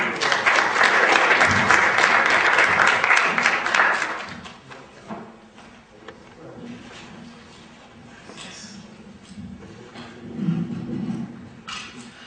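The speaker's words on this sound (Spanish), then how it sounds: "Con el aplauso de ustedes recibimos por favor al doctor José García Martín." An audience at a legal lecture breaks into loud sustained applause to welcome a speaker, then the clapping fades into scattered claps and room noise.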